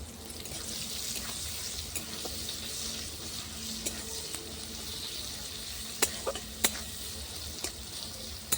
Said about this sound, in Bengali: ওই তেলে দেবো পেঁয়াজ কুচি।